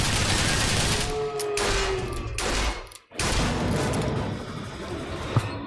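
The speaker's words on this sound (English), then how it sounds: "Let's get the SMG out." Rapid SMG gunfire from the Bioshock Infinite video game, sustained bursts of loud automatic shots with a brief gap midway, alone without talk.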